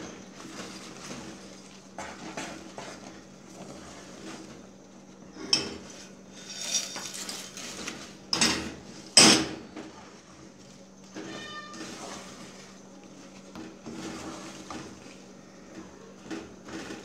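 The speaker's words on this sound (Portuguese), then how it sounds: "Vai jogando aqui as bolachinhas e mexendo." A spoon stirs cookie pieces into thick brigadeiro in a pan, giving soft scraping and scattered metallic clinks against the pan, with a few sharper knocks near the middle, close and moderately quiet.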